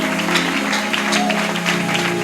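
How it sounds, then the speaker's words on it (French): A church congregation claps loudly and continuously for Lord Jesus, the dense patter of many hands layered over sustained music. "Chapia Bwana Yesu makofi."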